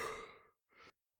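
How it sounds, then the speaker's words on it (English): A man stirring and yawning in a radio play, one long breathy exhale fading out, followed by a shorter soft breath, close and quiet with no words. "Jones stirring and yawning."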